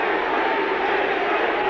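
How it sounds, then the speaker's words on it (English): A huge crowd at a 1988 rugby league Test between New Zealand and Great Britain roars steadily, a dense, continuous wall of voices that sounds like massed chanting, loud and unbroken throughout. "And the huge crowd starting to roar, Kiwi, Kiwi."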